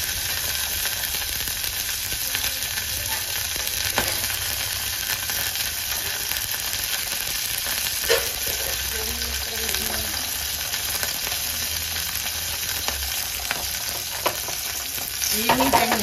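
Green chillies and tamarind fry in oil with a continuous close sizzle. A utensil stirs and scrapes the pan now and then.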